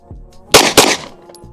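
Two sharp, loud pistol shots close together at a range, the first pair of reports cracking about a quarter second apart and ringing briefly after each.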